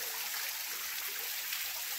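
Dharagiri waterfall near Ghatshila, running low with little water, gives a steady, faint hiss of falling and trickling water, continuous and unbroken, with no voices.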